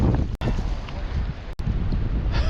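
Wind buffets a microphone outdoors during a fishing trip, a loud, steady low rumble with two brief dropouts.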